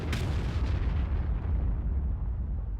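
A loud artillery shot booms from a tank's gun in World of Tanks, opening with a sharp blast and trailing into a long, rumbling low roar that fills the whole stretch.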